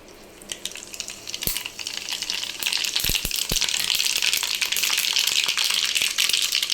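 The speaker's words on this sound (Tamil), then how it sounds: "இப்போ கடுகு போட்டுக்கலாம் எண்ணெய் ஊற்றிருக்கேன் கடுகு போட்டுக்கலாம்" Mustard seeds dropped into hot oil in a pan, a bright crackling sizzle that swells and holds steady, with a few sharp pops and clinks near the middle, close up and without speech.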